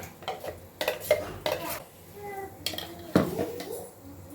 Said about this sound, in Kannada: ಇವಾಗ ಪಾಟಿಗೆ ಹಾಕ್ತಾ ಇದ್ದೀನಿ ಫಿಶ್ ಫ್ರೈ ಮಸಾಲ